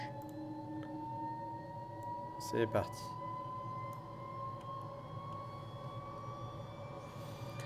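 The left jet engine of a Fouga Magister spools up inside a flight simulator game, a steady whine gliding slowly upward in pitch over a low hum, with a brief spoken voice and a couple of clicks.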